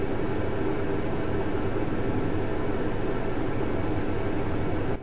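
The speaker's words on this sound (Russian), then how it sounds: "Это шумит новый китайский бензонасос." New Chinese replacement fuel pump in a Nissan AD, 12 body, whirring with the engine running, as a steady broadband rushing drone that stays constant and close throughout.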